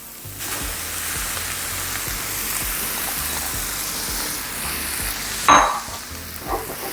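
Cooked rice tipped into a pan of frying vegetables for vegetable nasi goreng sizzles steadily and loudly, with scraping stirs throughout and a sharper clatter as the rice goes in near the end.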